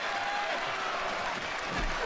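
Arena crowd in a WWE wrestling video game, a capacity house in Greenville, applauding and cheering in a steady broad wash that holds at an even level throughout.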